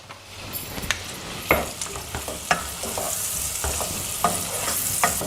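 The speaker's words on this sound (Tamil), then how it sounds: "இப்போ இந்த பெரிய வெங்காயத்தை போடுறேங்க, வதக்குறேன்." Onion, green chili and cumin sauté in butter and ghee, giving a steady close sizzle broken by repeated scraping stirs of a spoon against the pan, with no voices.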